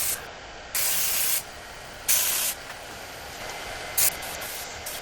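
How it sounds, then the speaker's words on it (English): Paint spray gun spraying blue paint onto car parts from a Volkswagen Passat restoration, three close hissing bursts of varying length over a steady background hum. "Now Sandra mixing blue paint, filling up in a paint gun, and now every part starts looking very good."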